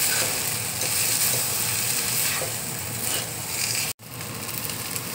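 Eggplant stuffing with boiled potato and chopped coriander fries in a pan with a loud, dense, continuous sizzle and scraping stirring, broken by one abrupt cut near the end; no one speaks.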